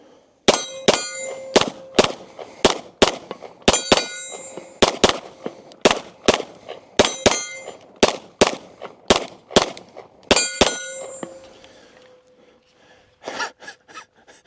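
Rapid pistol gunfire from a Match X handgun fed by a 20-round Checkmate magazine with Remington UMC ammunition, about twenty loud, sharp shots in a steady string, followed by a brief pause and a few fainter clinks.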